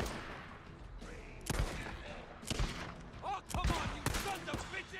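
Gunfire in the Days Gone video game: a few sharp shots burst out at moderate loudness, spaced irregularly among a busy background of combat noise.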